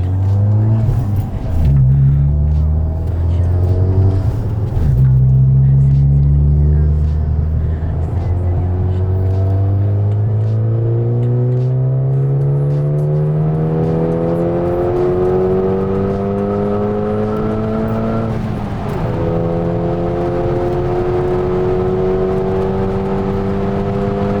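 A turbocharged Audi A4 B8 with a big turbo build, running E30 fuel, makes a full-throttle pull: a loud, sustained engine roar rising steadily in pitch through the gears, with a brief shift dip near the end and no talking.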